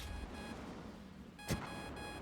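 Aircraft warning beeps sound in the Trailmakers video game, a faint repeating electronic tone in short pulses over a low steady engine hum, with one brief louder knock partway through.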